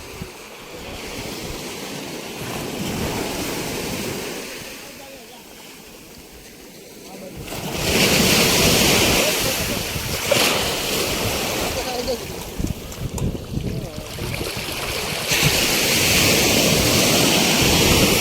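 Surf and gusting wind at a crowded seashore during a sea-worship gathering with milk offerings, a steady wash of waves that swells louder after a quieter opening, with faint voices mixed in.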